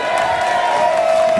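A crowd at an outdoor protest rally cheers and applauds, with whoops and shouts over a loud, steady roar that holds throughout.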